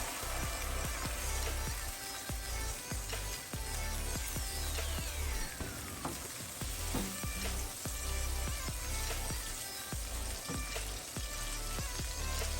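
Crushed chillies and red chilli powder cooking in a pan for a spicy potato dish, giving a continuous dense sizzle and crackle with occasional scraping of a utensil, close and steady with no talking.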